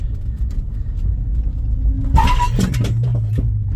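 A dead car engine catches during a push start: a low rolling rumble suddenly bursts into a sharp, rough firing, then settles into a steady low engine note close by.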